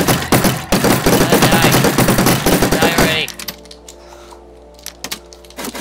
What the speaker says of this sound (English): I'm just spamming him with the friggin' AK